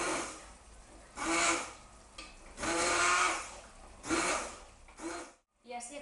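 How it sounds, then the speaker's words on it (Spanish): A kitchen blender whirs in several bursts while puréeing cooked vegan cauliflower purée, each pulse rising and falling with short pauses between, close and fairly loud. "batir nuestro puré"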